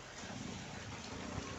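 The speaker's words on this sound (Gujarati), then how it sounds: "વરસાદ ચાલુ થઈ ગયો" Rain falls steadily, a faint, even broadband hiss that stays constant throughout with no voices.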